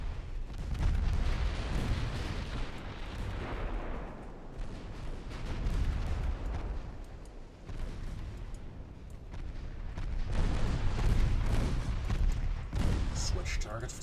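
Battleship secondary guns fire repeatedly in the naval combat game Ultimate Admiral Dreadnoughts, dense booming blasts rolling one into another. The barrage ebbs and swells across the stretch with talking over it.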